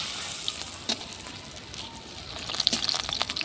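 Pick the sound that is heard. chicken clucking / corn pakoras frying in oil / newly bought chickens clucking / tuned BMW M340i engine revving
corn pakoras frying in oil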